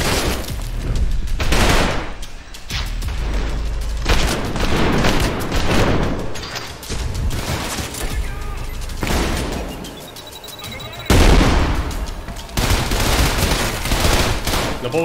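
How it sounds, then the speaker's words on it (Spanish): Machine gun fire in the gory first-person shooter Trepang2: loud, sustained bursts of rapid gunfire broken by short pauses, with heavy impacts and booms layered in and no talking. "No me gusta la ametralladora, ¿eh?"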